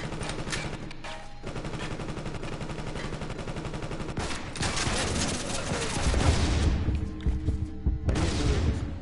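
Dense, continuous gunfire and booms from the video game CounterSpy, with rapid overlapping shots that grow heavier and more chaotic toward the end, loud throughout.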